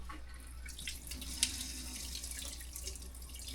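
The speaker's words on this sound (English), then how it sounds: "we go to each faucet, run the water to see if we get a bleach smell" Water running from an RV faucet into a sink while flushing bleach from the water system, a steady hissing splash at moderate volume with one brief sharp click partway through.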